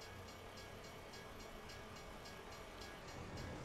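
A train rolls along the tracks near a level crossing in a steady, continuous rumble with a faint rhythmic clatter, heard from a vehicle waiting nearby, with no talk over it.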